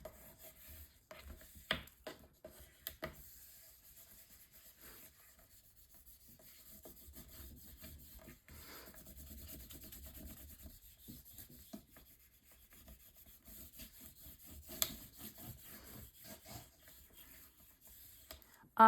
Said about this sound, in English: I will use my bone folder again just to burnish this down